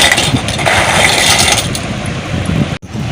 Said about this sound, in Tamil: மிக்சி ஜாரில் சேர்த்து நல்லா பவுட்ரு போல் நம்ம நைஸாக அரைச்சி எடுத்துக்கலாம்